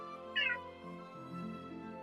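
A house cat lets out a single short meow near the microphone, followed by a low murmuring trill-like sound and faint background hum.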